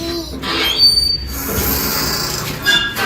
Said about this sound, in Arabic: سجلي بقى الاسانسير.